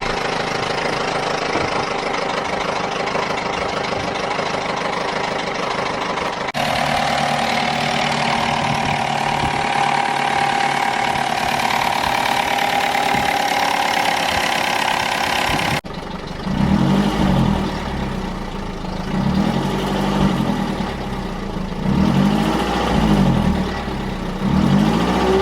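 Car engine running steadily after a battery recharge, a continuous mid-pitched idle hum that shifts tone partway through and then takes on a rhythmic pulsing throb, with no voices.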